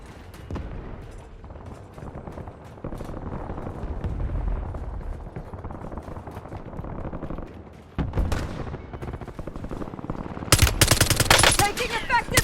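Gunfire in the video game Warzone, rapid automatic bursts rattling close and loud, thinning in the middle and then swelling into a harsh, heavy volley at the end, with game voice callouts heard in between.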